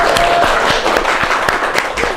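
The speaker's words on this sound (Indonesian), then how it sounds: "Tepuk tangan." An audience in a medical training session claps after a correct answer, a loud sustained round of applause with a few sharp individual claps standing out near the front.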